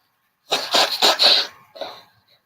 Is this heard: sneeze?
yes